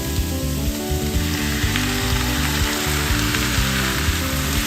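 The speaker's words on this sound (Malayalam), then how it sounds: "ഇനി നമുക്ക് നേരത്തെ മാരിനേറ്റ് ചെയ്ത് വെച്ചേക്കുന്ന ചിക്കൻ പീസസ് ഇടാം" Marinated chicken pieces go into a pan of softened onions and sizzle steadily and fairly loudly over a low, even hum, with small crackles scattered throughout.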